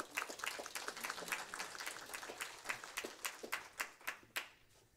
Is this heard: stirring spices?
no